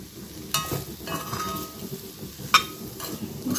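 Beans and potatoes sautéing with chili powder in a pan, a steady soft sizzle under repeated stirring scrapes and a few sharp utensil clinks against the pan.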